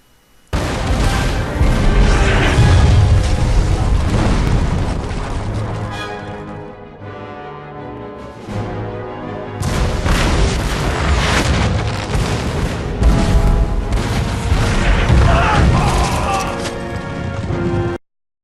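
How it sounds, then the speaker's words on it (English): Gunpowder weapons and artillery fire in a land battle in Empire: Total War, with dense, loud booms and crashes rolling almost without pause. A short lull comes midway, then the barrage picks up again. "The real-time land battle with the far greater focus of gunpowder weaponry than earlier Total War titles"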